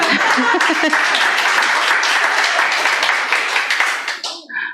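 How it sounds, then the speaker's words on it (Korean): Steady, dense applause from a large church congregation, clapping loudly and continuously before tapering off at the end. "다 박수 치세요."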